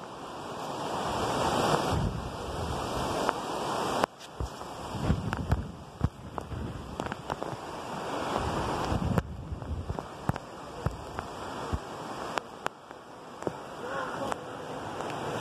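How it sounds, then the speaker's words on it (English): Severe gale-force wind in the UK roars and buffets the microphone continuously, with gusty surges and rumbling low noise throughout, loud and close. "Very windy today, guys. Very severe,"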